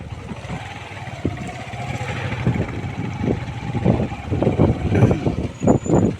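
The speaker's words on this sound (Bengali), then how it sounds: "আমাদের দোকানদার ছাবির ভাই আসছেন বাইক নিয়ে।" A motorcycle arrives along a farm field path, its engine rising from a low rumble to louder, uneven revving bursts as it draws closer near the end.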